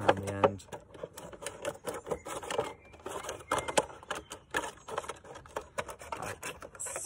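Plastic bottle being cut around its end, a crafting job for a bug hotel: a close, uneven run of small clicks, snips and scratchy crackles of plastic, with a low hum at the very start.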